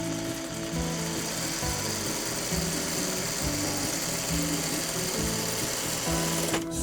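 A sewing machine stitches a quilt block seam, its needle running in a steady, fast mechanical rhythm close by, with no talking.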